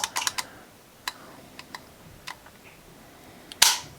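Dry-fire trigger clicks from an upgraded Springfield Prodigy pistol with a 3.5-pound trigger, a quick cluster of sharp clicks, a few spaced single clicks, then one louder snap at the end, close and quiet.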